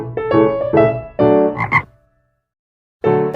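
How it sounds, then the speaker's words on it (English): Frogs croak in a few quick, loud, throaty bursts close by, then fall silent briefly before another croak starts. "These are fabulous frogs."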